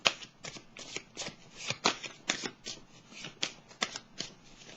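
Tarot cards being shuffled, a rapid series of crisp riffling slaps and flutters in short bursts, close and fairly quiet, with no voices.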